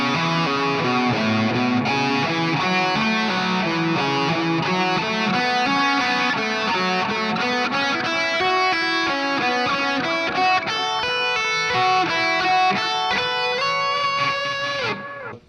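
Epiphone Les Paul electric guitar playing a slow pentatonic lead lick, a loud, clear run of single notes and bends stepping through a melodic line for about fifteen seconds, alone with no backing.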